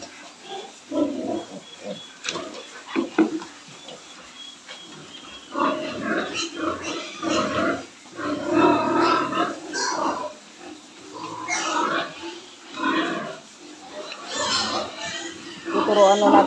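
Young piglets at feeding time on a farm, grunting and squealing up close in an irregular chorus, while someone talks over them.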